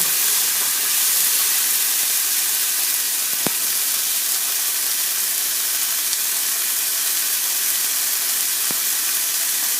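Butternut squash sauteing on high heat for vegan tacos, giving a steady broadband hiss and sizzle throughout, with a few brief sharp clicks from the pan and no talking.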